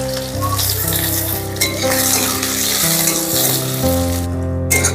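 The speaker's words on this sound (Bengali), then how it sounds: "ফোড়ন ভাজা ভাজা হয়ে গেলে দিয়ে দেবো পেঁয়াজ কুচি।" Chopped onion frying in hot oil tempered with bay leaf and cumin gives a steady, bright sizzle throughout, with a tonal musical backing running underneath.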